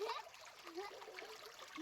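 A soft trickle and light splashing of spring water from the ground near a dam on a Chikkamagaluru estate runs continuously under quiet voices talking nearby.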